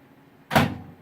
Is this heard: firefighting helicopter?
no